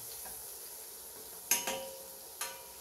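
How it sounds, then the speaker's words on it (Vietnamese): Minced shallots frying in a pan for a chicken-offal and garlic egg dish, a faint steady sizzle with a few sharp utensil clinks against the pan. "Rồi tiếp tục mình sẽ cho một ít hành tím phi vào"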